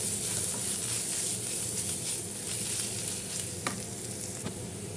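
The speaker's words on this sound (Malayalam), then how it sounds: "പൊടികളിലേക്ക് പച്ചമണം മാറുന്ന വരെ വഴറ്റി കൊടുക്കാം" Spice powders, including Kashmiri chili powder and masala powder, sautéing in a pan for a small egg roast, giving a steady close sizzle with occasional soft stirring scrapes, no talk.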